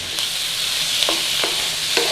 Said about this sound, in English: You can hear that crackling from those curry leaves already.